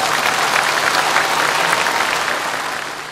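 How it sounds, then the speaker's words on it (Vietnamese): Steady, dense applause from an audience at a Buddhist temple event, a continuous wash of clapping that holds for about three seconds and fades slightly at the end. "Một lần nữa xin quý vị dâng cao những tràng pháo tay thật nồng nhiệt."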